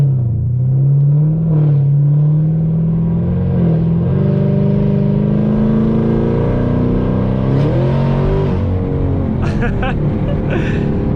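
A modded Chevrolet Camaro ZL1 V8 roars loudly on the move, its engine note rising and falling through several rev swells and shifts, close and continuous, with a voice talking briefly over it.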